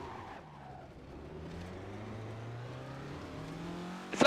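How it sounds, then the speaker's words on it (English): Rally car sliding sideways on a slippery stage in the Assetto Corsa Rally video game, the engine droning with shifting pitch under faint tyre scrub, ending in a sharp brief burst at the close. "and we've gone sideways again."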